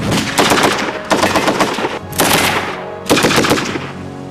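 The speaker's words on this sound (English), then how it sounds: "Even though Great Britain stopped producing the Bren in 1971, it is still considered the finest light machine gun ever made." A Bren light machine gun fires four loud, close bursts of rapid automatic shots, each burst lasting about a second, separated by brief pauses.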